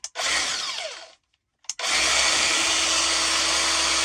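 A Makita power tool, a groove-cutting machine with a paddle switch like a grinder's, whirs up loudly, cuts out briefly, then restarts and runs at a steady, dense, high-pitched roar.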